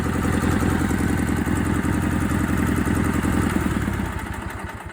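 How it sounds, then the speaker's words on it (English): A 1976 Sears SS16 garden tractor engine, running on a little choke, idles close by with a steady, rough, loud chugging that eases slightly toward the end. "right now it needs a tiny little bit of choke to stay running at idle"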